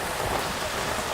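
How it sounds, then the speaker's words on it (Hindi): Heavy rain falls in a steady, dense hiss with no break, loud and close, filling the whole moment with no voices. "आगे भी लगता नहीं है बारिश आज रुकेगी।"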